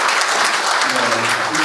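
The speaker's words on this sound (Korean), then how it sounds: "큰 박수 주시기 바랍니다." Audience applause at a joint wedding ceremony, a short steady wash of clapping with some voices and murmur mixed in, fairly loud and continuous throughout.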